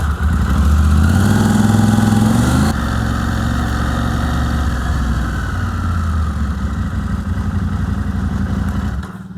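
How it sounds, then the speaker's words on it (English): A KTM 890 Adventure R motorcycle fitted with a Rekluse auto clutch idles loudly up close with a steady engine drone, then shifts pitch as it pulls away and keeps running under load. "I can start the bike, kick it in gear, and take it off without using the clutch, and I can come back around"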